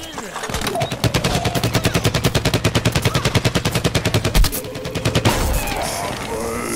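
Rapid automatic weapon fire in the Plants vs Zombies Garden Warfare video game, a steady stream of repeated shots that breaks off as the weapon overheats, then resumes briefly, with voices talking underneath.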